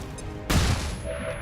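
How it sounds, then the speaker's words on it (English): A flashbang grenade goes off in XCOM 2, one sudden loud blast that cuts through the game audio and then rings out into a short rumbling tail. "Fastball flashbang. Flashbang!"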